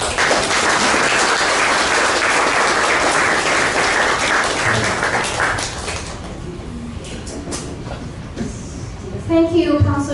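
Audience applause breaks out after a speech at a Washington State gathering marking 45 years of China–US diplomatic relations, a loud dense clapping that fills the first six seconds, then thins out, with talking and room noise following.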